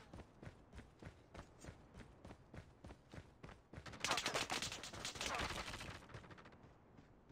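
Enemy gunfire in Call of Duty Modern Warfare 2 multiplayer on Xbox: a steady run of sharp, evenly spaced shots, then a denser, louder burst of rapid fire that fades into a few final reports.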